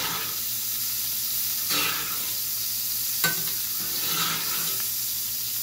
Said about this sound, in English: I'm just turning and kind of basting it.